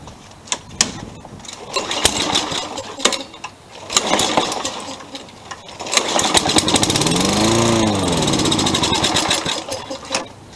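A Toro lawn mower engine running fast after repair work, a loud, close buzzing roar that rises and surges, with clattering mechanical knocks and revving swells throughout.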